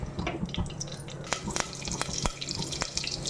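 Dried red chillies, mustard seeds and cumin sizzle in hot ghee, a busy crackle of close spits and pops over a constant frying hiss.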